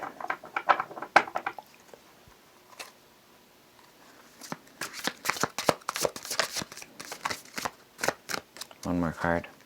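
Tarot cards being shuffled, quick papery riffles and flutters in bursts, close up, with brief pauses and a voice speaking in between.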